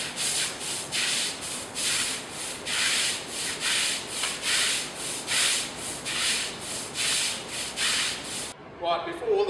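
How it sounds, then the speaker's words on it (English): A brush scrubs a concrete driveway coated with Oxy-Klenza cleaner in a steady back-and-forth rhythm. There are about a dozen loud, close, rasping strokes, and then the scrubbing stops abruptly. "So we're just going to give it a bit of a scrub."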